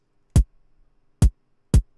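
Three punchy drum and bass kick drums built in Serum, each with a short click layer on the attack and a deep thump beneath, spaced apart with silence between hits.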